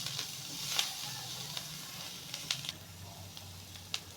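Coriander powder, chili and salt frying in a pan, a faint sizzle punctuated by a few sharp spatula taps and scrapes.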